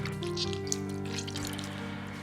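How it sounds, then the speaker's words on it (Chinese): Water running and dripping as soaked lean pork slices are rinsed and squeezed out by hand over a sink, a steady close trickle and splash continuing alone without talk. "然后捞出，挤干水分"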